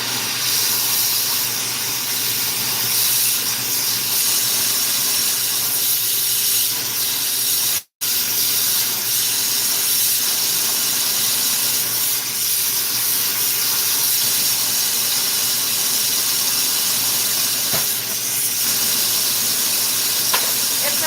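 Glassblowing torch blasting devitrification out of the bowl of a glass pipe, a loud, steady roaring hiss that runs nearly the whole time with one brief cutout.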